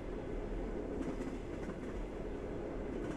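A train running on rails in snowy weather, with a loud, continuous rumbling roar and a dense, even rattle throughout, no voices.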